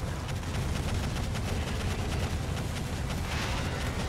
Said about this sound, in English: I want more guns on there. Come on, get all my guns on shooting.